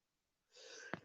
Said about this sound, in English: I usually sneeze twice.